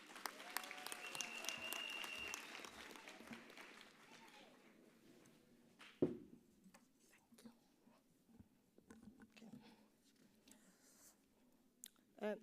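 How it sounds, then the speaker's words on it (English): Crowd applause at a health sciences faculty graduation ceremony, a burst of clapping that fades out after a few seconds, leaving a quiet hall with soft murmurs, a thump and scattered small noises. "A big round of applause for Prof,"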